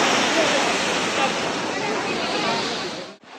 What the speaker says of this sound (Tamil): இப்போ நான் காட்டினது வந்து இதுலேருந்து கீழே தண்ணி வருது